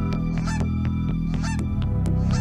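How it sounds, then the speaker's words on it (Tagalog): Geese honking loudly and repeatedly, guard geese at a prison, close and insistent over a steady low rumble of background noise. "Ang ingay! Gansa nga!"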